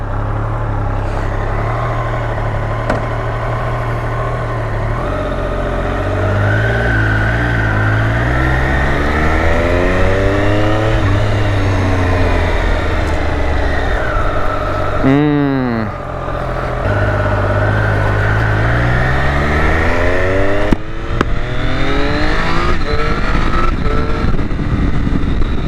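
A Triumph Moto2 Daytona motorcycle is ridden hard, its engine rising and falling through repeated revs and quick gear shifts under loud wind roar, with one sharp high rev sweep midway.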